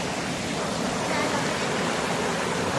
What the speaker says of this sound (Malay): Ada air terjun.